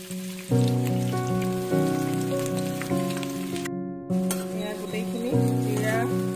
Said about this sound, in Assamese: তেলখন গৰম হৈছে তেলত দি দিলোঁ পিঁয়াজ